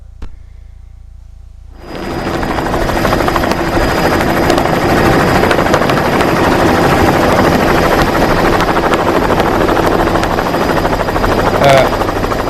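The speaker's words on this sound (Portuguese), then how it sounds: "Esses são os helicópteros do Milton Friedman" A helicopter is heard after a brief near-silence, then its loud, steady rotor chop and turbine roar hold at close range through to the end.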